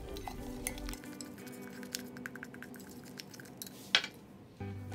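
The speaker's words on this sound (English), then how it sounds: "Next, we just wanna mix the paint and the baking soda together." Paint and baking soda are stirred together in a cup, heard as light scraping and clinking of a utensil against the container, close and soft, with one sharper clink near the end and no talking.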